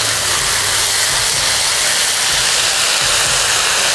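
Tofu skin stir-frying in a hot wok for a Chinese-restaurant-style luffa dish, heard as a loud, dense, continuous hiss and sizzle that holds steady throughout with no talking.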